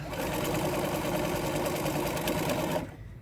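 A sewing machine stitching fabric slowly over pins, a steady close mechanical whir that runs unbroken for nearly three seconds and then stops abruptly.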